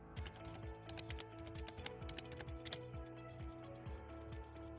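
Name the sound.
typing a search on a computer keyboard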